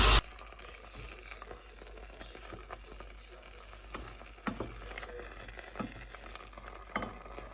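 Compote cooking in a saucepan, soft bubbling and faint sizzling, with occasional scraping and clinks of a utensil against the pan.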